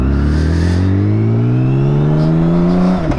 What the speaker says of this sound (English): A little weird at the lower gears because it gives it a notable throttle blip